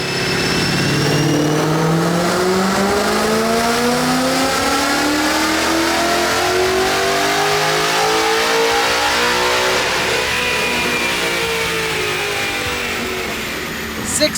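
A modified Ford Mustang GT V8 with long-tube headers and an aftermarket exhaust revs hard, a loud, close, continuous engine roar rising and swelling in pitch through sustained acceleration before easing off near the end.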